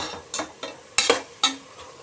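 Onions and spices frying in oil for mushroom biryani, with soft sizzling and a few distinct stirring scrapes of a spoon in the pan, close by and without talk.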